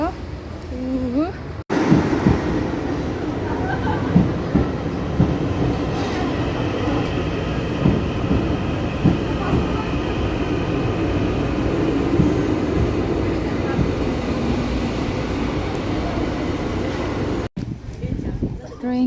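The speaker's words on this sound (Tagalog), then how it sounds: "Train." A train rolls past at length with a loud, continuous rumble and rattle of railcars, while people talk over the noise throughout.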